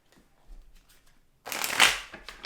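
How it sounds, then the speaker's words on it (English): Self-care oracle cards being shuffled by hand, a quiet soft handling at first and then a close, fairly loud riffling burst that runs through the second half, with no talking. "I'm going to pull some self-care cards."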